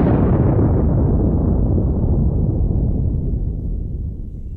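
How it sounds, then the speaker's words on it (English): A nuclear explosion sound effect for the first atomic detonation in New Mexico, 1945: one loud, deep rumbling blast that fills the whole clip and fades only slightly over several seconds, with no voices. "the world's first nuclear explosion has just detonated"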